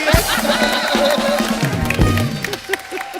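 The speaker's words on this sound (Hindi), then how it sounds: "एक बार जोरदार तालियां भाई साहब के लिए।" A TV comedy show's studio audience breaks into applause and cheering, a dense wash of clapping and crowd voices running steadily throughout at moderate loudness.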